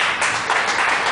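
A church congregation claps during a worship service, a short burst of many hands clapping together at close-to-moderate distance.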